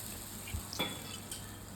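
Mustard seeds, cumin and asafoetida crackle and sizzle in hot oil as a tempering for a village-style green coriander-chili chutney, a steady close fry with a few small metallic clinks and stirring taps.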